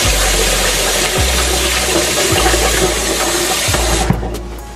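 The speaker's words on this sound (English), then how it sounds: "Just gonna rinse my rice." Tap water running hard into a pot to rinse rice, a loud continuous rushing splash close by, with faint clunks of the pot, before the flow stops near the end.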